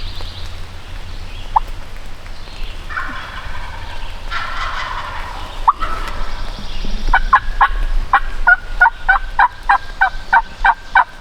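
Wild turkeys gobble close by, first scattered faint calls over rustling, then a loud rapid string of gobbling notes in quick rhythm toward the end, with no talk.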